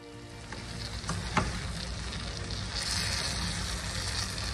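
Cabbage fries and sizzles in a pan, giving a dense, continuous crackling hiss with a few louder pops and stirring scrapes. It swells slightly toward the end and plays alone with no voices.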